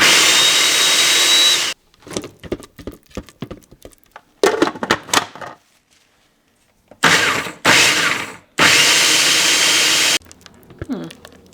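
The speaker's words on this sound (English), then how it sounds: "We're gonna be putting our ingredients into our food processor and whipping it up" A food processor whips butter, lemon juice and salt into mayonnaise in loud, steady whirring bursts, starting and stopping several times with clattering and knocking between runs.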